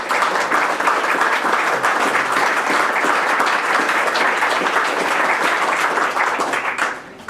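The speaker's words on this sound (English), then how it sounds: "I would personally like to give you guys a big round of applause" A big round of applause fills a room at a maths graduate event as project officers are thanked, dense and sustained for about seven seconds before tapering off abruptly at the end.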